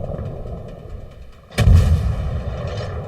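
Warship guns fire in the naval video game World of Warships: one heavy booming blast lands midway through a steady low rumble of game ambience.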